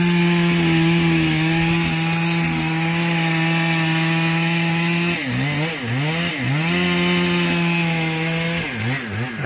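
A chainsaw trims a cut tree top, running loud and steady at first and then bogging and revving in uneven surges as it bites into the wood.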